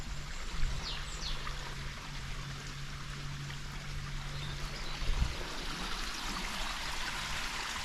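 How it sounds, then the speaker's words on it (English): A small stream trickles down a wooded glen above a big waterfall near Fairlight Glen beach, a soft, steady rushing of water heard faintly and evenly throughout, with no one speaking. "There's a little stream that runs down, and the edge is just over there."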